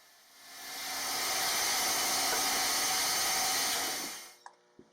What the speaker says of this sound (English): I'll just cut the shoulders off on the bandsaw